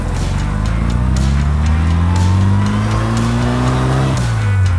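An Austin-Healey 100S sports car accelerates hard, its engine note climbing steadily through the revs before a gear change near the end, loud and close with no voices.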